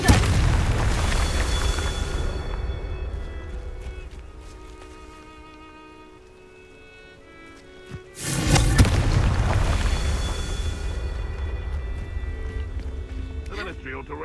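A Confringo blasting spell in Hogwarts Legacy erupts in a loud, deep boom, followed by a quieter lull and then a second sharp explosion that rumbles on, with voices speaking amid the combat.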